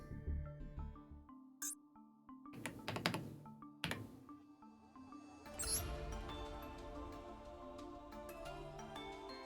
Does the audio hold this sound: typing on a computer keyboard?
yes